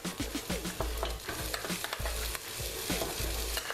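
Browned oxtails go back into a pan of onions for Caribbean-style oxtails with butter beans, giving a steady frying sizzle broken by repeated low clunks and scrapes of stirring, close and fairly loud.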